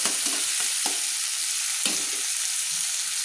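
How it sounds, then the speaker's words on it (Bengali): Onions frying in oil in a wok previously used for frying brinjal hiss with a steady, close sizzle, broken by a few soft spoon knocks and stirring scrapes. "এইভাবে আমি পেঁয়াজগুলোকে একটু লাল লাল করে ভেজে নেব বেগুন ভাজা কড়াইতে"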